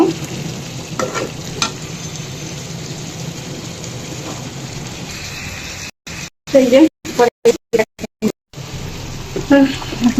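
Meat being browned in a pan sizzles loudly up close, with irregular stirring scrapes, then the sound cuts in and out in a rapid series of abrupt gaps toward the end.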